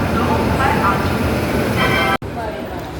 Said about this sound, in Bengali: আজকে আমি এই ট্রেনে জার্নি করব, সেটা হচ্ছে সরাইঘাট এক্সপ্রেস